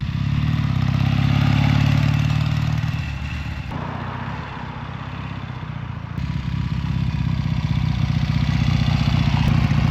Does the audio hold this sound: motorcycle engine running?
yes